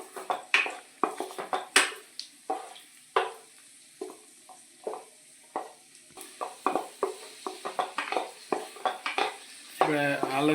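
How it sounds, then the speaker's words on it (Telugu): Cashews and raisins fry in ghee in a pan, with repeated sharp scraping and clinking of a spoon against metal, a soft sizzle running underneath, and a louder hiss swelling at the very end. "ఇలా మనం నెయ్యిలో వేపుకోవాలండి."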